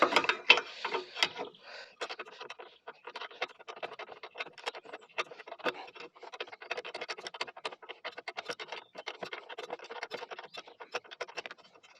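Long nose pliers grip and twist a Phillips screw while a motorbike or mower is being taken apart. The scraping is close and rapid, broken up by dense metallic clicks and ratcheting scratches that keep going throughout.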